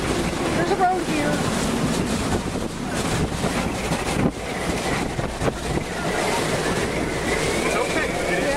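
Strong wind gusts buffet a vehicle during a tornado chase near El Reno, Oklahoma, a loud, continuous roaring rush with turbulent bursts, heard alone without talk.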